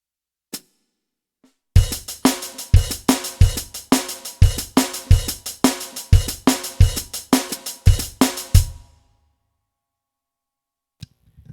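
A drummer plays a steady groove in five time, with sharp, evenly spaced hits and accented strokes, for several seconds, then stops, leaving near silence with a couple of isolated taps.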